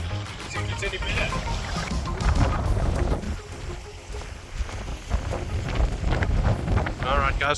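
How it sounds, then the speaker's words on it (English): Strong wind sweeps across a rocky beach at Langebaan in the Western Cape, buffeting the microphone in loud, uneven gusts with a rumbling roar. "Very windy now towards the end."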